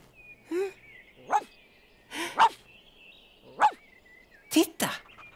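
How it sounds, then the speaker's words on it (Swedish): A cartoon dog in a Swedish children's show gives several short barks and yips spaced about a second apart, clear and close, with bright background music and sound effects between them. "Där är hunden!"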